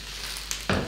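Waffle batter crackling inside a hot waffle iron, a faint hiss that swells into a louder sizzling burst near the end, close by with no talk.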